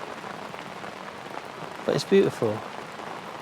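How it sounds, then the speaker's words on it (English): Rain falls steadily on a UK beach on the Bristol Channel, a constant soft hiss throughout, with someone talking briefly over it. "it's raining,"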